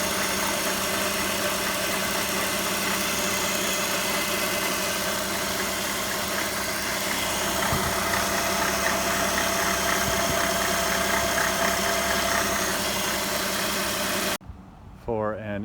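A BMW E60 with the M54 engine idling steadily just after an alternator replacement, a loud close even rumble with a faint knocking tick, cutting off abruptly near the end.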